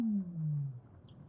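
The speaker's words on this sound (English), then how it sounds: "They're actually the calls of Weddell seals." A Weddell seal calls underwater beneath Antarctic ice, a single eerie descending tonal sweep sliding downward in pitch, faint and echoing, ending with a soft chirp.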